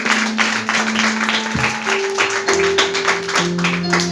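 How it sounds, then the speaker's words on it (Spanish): A church congregation claps loudly and steadily in rhythm over sustained music from an organ or keyboard, filling the space with dense, continuous applause. "Dele fuertes palmas al Señor."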